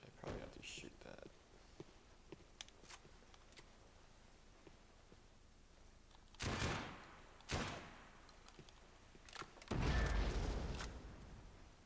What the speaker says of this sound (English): I probably have to shoot that.